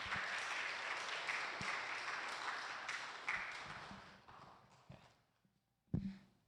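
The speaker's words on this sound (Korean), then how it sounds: "박수 부탁드립니다" A church congregation gives brief applause that thins out and fades, leaving a few scattered last claps and then quiet.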